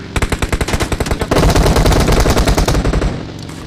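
Automatic gunfire in a battle royale video game, rapid loud bursts of shots at first, then a dense continuous volley that fades out near the end.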